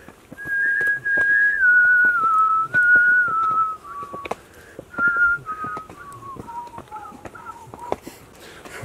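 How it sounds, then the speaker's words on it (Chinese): Whistling on a mountain hiking path: a clear melodic tune of sustained and stepping notes, fairly near and loud, with footsteps and small knocks sounding underneath. "我们要开始吹口哨了。"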